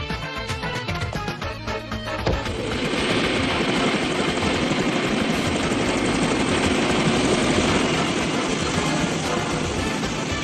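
A hijacked helicopter lifts off, its rotor and turbine building from a lower rumble into a loud, steady, close roar that fills the scene with no voices.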